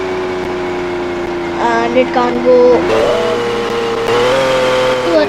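A race-engine-tuned car in the Roblox game Driving Empire hums with a steady engine tone that climbs and drops through several revs and gear changes, loud and close, while a person talks over it.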